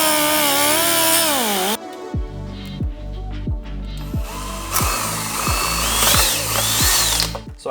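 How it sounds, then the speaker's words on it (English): A power drill bores mounting holes in a BMW F80 M3 / F82 M4 bumper, starting with a brief high whine, then a rhythmic series of about eight ratcheting bursts under a steady drone, close and loud. "So I just drilled some holes for that mounting point for these guards."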